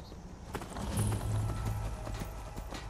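Horse hooves clip-clopping in Skyrim, a steady run of hoofbeats at moderate volume over a low game ambience, with no talk.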